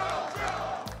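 A crowd at a union campaign rally in Washington cheers and shouts as Biden walks onto the stage, a loud, dense roar with rhythmic swells and no clear speech.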